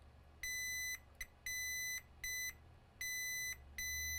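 Multimeter continuity tester beeps as it finds a short on a Galaxy S9 Plus phone board, giving five clear high steady tones of varying length with short gaps, close and alone.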